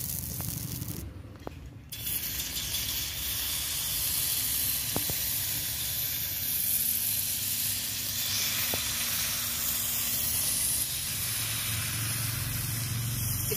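Patishapta batter sizzles in an oiled pan over a stove, a steady soft hiss with a few faint clicks, continuous and close without talk.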